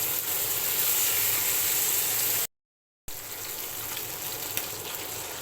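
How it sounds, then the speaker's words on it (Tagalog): Water pours into a pot of pork and beans with tomato sauce, a steady close hissing gush that stops briefly and then resumes more softly. "At maglalagay din tayo ng konting tubig."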